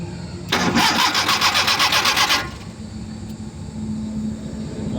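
A car engine cranks repeatedly with a rapid, pulsing starter whir for about two seconds, then stops without catching, leaving low background rumble.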